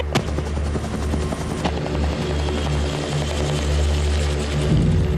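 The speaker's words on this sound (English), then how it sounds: "As the choppers pass overhead" Military helicopters pass overhead above dense bush, a steady low rotor throb and engine drone close and loud throughout, with a couple of sharp clicks near the start.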